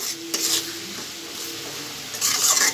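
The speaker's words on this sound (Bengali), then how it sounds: "এখন ভালো করে আমার আলুগুলোও সিদ্ধ হবে, আর এদিকে মশলাটা কষানো হবে।" Spices and potatoes sautéing in a pan for a dhundul and pangas fish dish, a low continuous sizzle with spatula scrapes near the start and end, close and alone.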